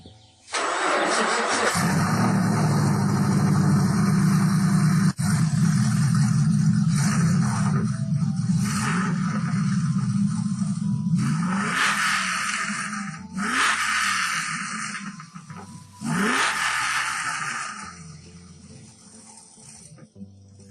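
A 2012 Camaro 2SS/RS 45th anniversary edition on stock mufflers cold-starts with a loud crank and bark, then settles into a steady, rumbling high idle before a few revs and quieter stretches near the end.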